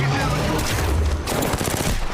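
Dense rapid gunfire from a shooting video game, sustained automatic bursts and booms filling the whole stretch, loud and continuous.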